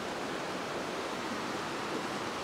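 Water flows down beside an old 1800s cabin's water wheel, a steady dense rushing hiss that stays even throughout with no voices.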